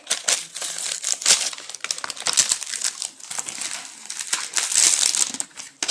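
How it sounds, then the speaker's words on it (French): A parcel holding a Biocura blush is unwrapped, with continuous close crinkling and crumpling of plastic and paper packaging in irregular bursts. "Je vais ouvrir."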